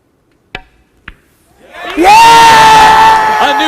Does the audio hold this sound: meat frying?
no